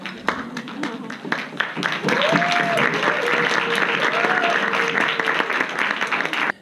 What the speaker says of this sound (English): because I know you just heard a lot of applause